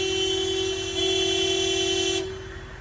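A car horn in a video game gives a thin, sustained toot lasting about two seconds in gridlocked traffic, then cuts off, with no voices.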